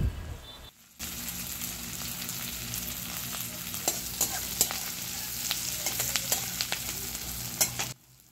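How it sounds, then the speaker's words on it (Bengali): Chopped onion with whole cumin seeds frying in hot oil in a wok, a loud continuous sizzle with scattered stirring clicks, starting abruptly after a brief quiet moment and cutting off near the end. "কড়ায় তেলের মধ্যে গোটা জিরে ফোড়ন দিয়ে কুচানো পেঁয়াজ দিয়ে দেওয়া হচ্ছে।"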